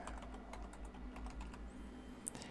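Soft typing on a computer keyboard on a Windows machine, a steady run of light, close key taps over a low hum, faint and without speech.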